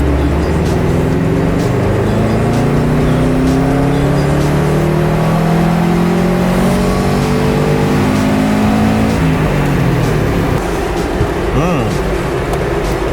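A turbocharged car engine on a dyno power run climbs steadily in revs, loud and sustained, with a rising drone that sweeps upward for most of the run before easing off near the end.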